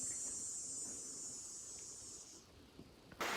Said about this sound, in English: Our first cicada of the year.